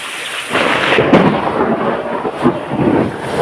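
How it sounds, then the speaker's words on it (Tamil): Loud thunder rumbles with a sharp crack near the middle over steady heavy rain in Arakkonam, the downpour hissing continuously throughout with no voices. "எவ்வளோ வேகமாக இடி இடிச்சிச்சு"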